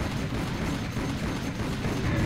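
Dense, continuous gunfire and explosive blasts from weapons in the first-person shooter Serious Sam: The Second Encounter, Legend of the Beast level, a steady loud barrage with no gaps and no talk.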